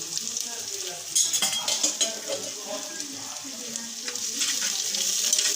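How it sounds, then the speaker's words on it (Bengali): Chopped onion with bay leaf frying in very hot oil, a steady broadband sizzle with scattered stirring and utensil clinks against the pan, close and continuous throughout. "তা এটা একটু ভেজে নিচ্ছি"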